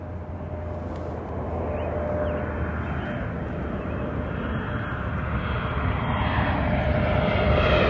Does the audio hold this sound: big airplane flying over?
yes